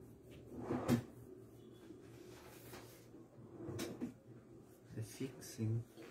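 A drawer is opened and rummaged through to retrieve a receipt, with a few wooden knocks and sliding thumps, close and moderate, while people talk nearby.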